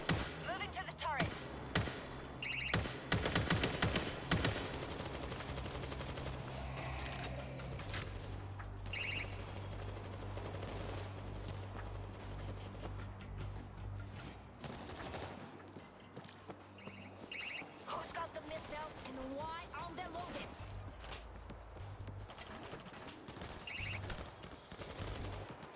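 An automated turret in World War Z rattles off sustained rapid bursts of gunfire. The shots run through a dense, chaotic battle din with other shots and effects layered over one another.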